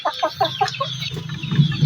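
Native chickens, including young birds and a rooster, cluck in a quick series of short calls, fairly close, with farmyard background noise and a low rumble.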